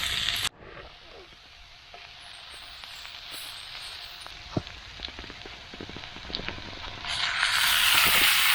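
A campfire burning down outdoors at a hunting camp gives a steady close hiss scattered with sharp pops and crackles, swelling fuller and louder near the end.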